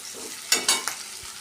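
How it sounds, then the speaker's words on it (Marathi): Chopped onion is sautéed over a low flame in a pan, with a quick burst of two or three scraping strokes over a soft sizzle. "आता कांदा आपल्याला इथं व्यवस्थित असा परतून घ्यायचा आहे"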